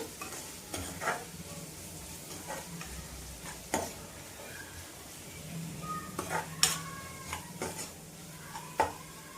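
Coriander powder fries in hot oil in a pan for a brick-red Telugu brinjal and dry fish curry, with a soft steady sizzle broken by scraping stirs and occasional clinks of a spoon against the pan.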